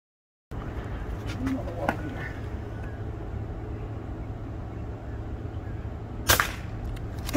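A PCP air rifle fires at iguana-shaped ice sculptures outdoors, giving a sharp, brief crack late in the clip over a steady background hiss, with a fainter tap or impact earlier on.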